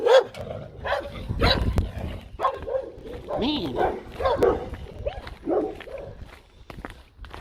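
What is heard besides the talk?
dogs barking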